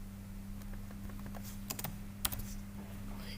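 Keys tapped on a computer keyboard, a few scattered light clicks and one short cluster, faint and close over a steady low electrical hum, no voices.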